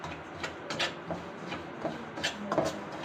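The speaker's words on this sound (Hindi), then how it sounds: "सूजी में हम मुसलसल चम्मच हिलाते रहेंगे ताकि नीचे से जले नहीं" A spoon stirs semolina roasting in ghee in a pan, giving quiet, irregular scraping and rubbing strokes, several short bursts spaced through the stretch over a soft background hiss.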